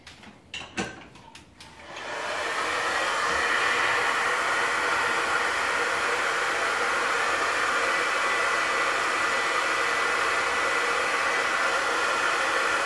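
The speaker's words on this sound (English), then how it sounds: "Alright, then get to blow drying." A hair dryer blow-drying hair during a salon styling session: a few brief clatters, then the motor switches on and settles into a loud, continuous whooshing roar that holds steady to the end.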